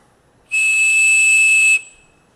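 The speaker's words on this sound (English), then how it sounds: "The whistle, of course, can make 2600 hertz much louder" A loud, pure 2600 hertz whistle tone starts abruptly, holds steady for over a second, then cuts off, leaving a brief fading tail.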